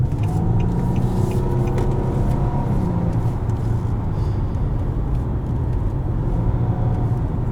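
Interior view of a 2017 Nissan Maxima SV driving in manual shift mode: a steady, loud engine and road rumble with constant tire noise, no voices, and no clear rev changes.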